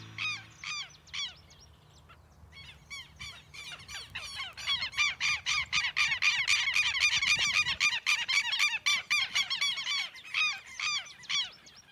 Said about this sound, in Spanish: si nunca ha oído al tero, porque es una voz muy singular en todo el Uruguay